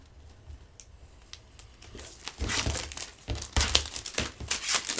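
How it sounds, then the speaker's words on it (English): Plastic craft baggies being trimmed give off a crinkling rustle, soft and sparse at first, then louder and busier in close, irregular bursts with no talking. "And then I'm just going to trim my bag."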